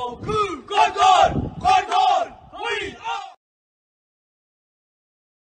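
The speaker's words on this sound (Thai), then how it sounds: "มาตะโกนให้ดังว่าเราคือคอน" Nakhon Si United football fans chant and shout together in loud, rhythmic bursts during a club training session at a stadium, then fall silent for the last couple of seconds.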